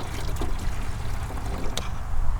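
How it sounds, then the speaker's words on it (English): Liquid poured from a bottle into a 10 litre watering can, a steady close-up trickle with low gurgling splashes that continues evenly without talk. "this is a 10 litre water can, so we'll probably put most of this bottle in."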